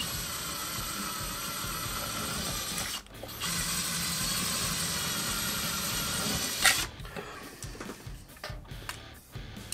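A drill whirs steadily while boring guide holes into the body of a DIY offset guitar kit, pausing briefly near three seconds, then running again before tapering into uneven mechanical clicks and rattles.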